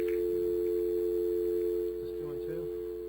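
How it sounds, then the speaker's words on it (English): A steady telephone dial tone hums continuously through the whole stretch, with a person talking faintly over it toward the end. "Dial tone?"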